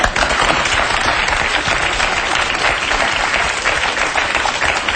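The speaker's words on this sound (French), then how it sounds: "C'est vous qui venez de lancer cet applaudissement?" Sustained audience applause at a French television show, loud and dense throughout, with no voices cutting through.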